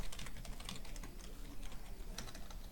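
Quick continuous typing on a computer keyboard, dense light clicking at a steady pace, faint and close with no talking.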